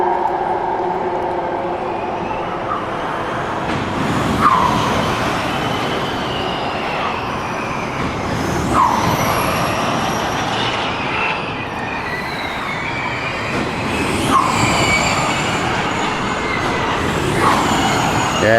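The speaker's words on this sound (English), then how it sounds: "DLR and Formula E at the same time" DLR light railway train and Formula E cars passing at a street circuit, a loud continuous rumble of rail traffic with repeated rising electric whines sweeping by every few seconds.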